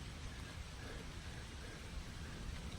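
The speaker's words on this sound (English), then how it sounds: "it's just raining and a little bit of thunder in the distance" Steady rain falls in a mountain-road setting with a low rumble of distant thunder underneath, faint and continuous with no talking.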